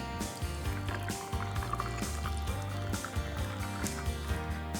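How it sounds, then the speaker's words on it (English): Double-strength coffee is poured over ice, a steady trickle and splash partly buried under continuous background music. "this is double strength coffee, and I'm going to pour it over ice"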